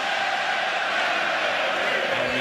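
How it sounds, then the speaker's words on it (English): Irish fans in a large arena crowd roar at a boxing match between Conor McGregor and Floyd Mayweather, a dense, loud, sustained wash of cheering and shouting with no breaks. "And the crowd goes up"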